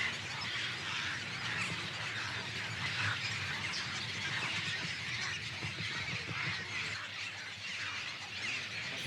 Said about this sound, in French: ces passionnés d'ornithologie inspectent la colonie d'ibis et de hérons